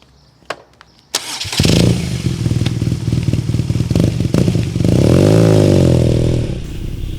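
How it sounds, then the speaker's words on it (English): A BMW R NineT Scrambler motorcycle clicks, then its engine fires up and rumbles close and loud, settling into a steady throbbing idle before revving up and easing back down. "My first impression is that the bike drives very smoothly."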